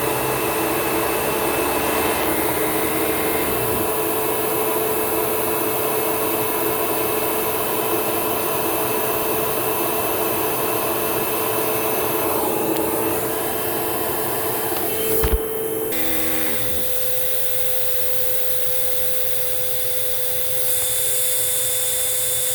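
A Eureka Smartvac vacuum cleaner runs during a hose airflow test, with a loud steady motor roar and whine. Its tone shifts abruptly partway through, then it continues evenly to the end.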